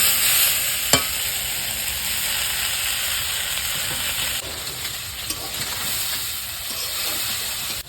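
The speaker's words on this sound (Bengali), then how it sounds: "কলমি শাকগুলো একদম ভালো করে বেশি করে তেল দিয়ে ভাজা ভাজা করে নিচ্ছি" Water spinach and small fish fry in plenty of oil in a village kitchen, a loud continuous sizzle and hiss with occasional clinks and scrapes of stirring.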